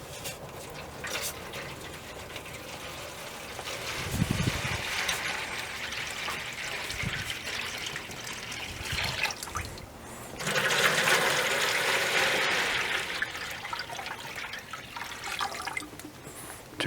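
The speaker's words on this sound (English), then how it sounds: "I'm going to fill these with water, and that'll keep a lot of moisture in the grill while the food cooks." Water runs from a tap into a grill drip pan for an SNS Kamado grill set up for brisket, a continuous splashing trickle that swells into a louder, fuller pour near the end.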